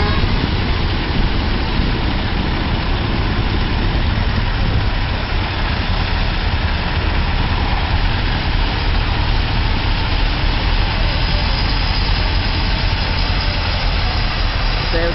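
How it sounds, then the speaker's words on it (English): A tractor engine idles steadily through a small-town fall festival parade in Mount Pulaski, Illinois, a continuous low rumbling drone that stays loud and close the whole time, with no clear talking. "Down here, got another tractor."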